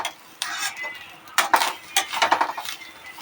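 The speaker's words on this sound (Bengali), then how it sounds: "নারকেল কোড়াটাকে নেড়ে নেড়ে ভেজে নিতে হবে" Grated coconut is stirred and fried in a pan, with a spatula scraping and clinking against the metal in quick irregular strokes over a faint sizzle, close up.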